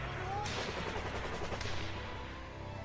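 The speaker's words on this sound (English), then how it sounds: "That sounds like it's perfectly under control, all those gunshots." Gunfire in the video game Plague Inc. Evolved, a dense crackle of overlapping shots and bursts in a steady loud volley.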